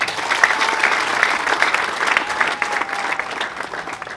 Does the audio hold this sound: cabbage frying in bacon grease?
no